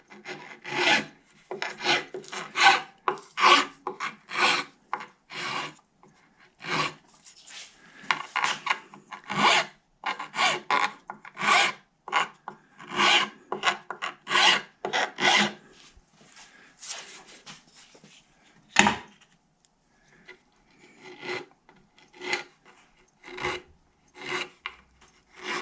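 A guitar neck held in a vise is sanded by hand, rapid rhythmic rasping strokes in quick bursts with short pauses and one sharp knock partway through, close and clear.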